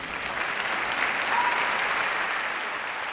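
A theater audience at an anniversary musical event applauds, a full, even wall of clapping that stays steady and fairly loud throughout.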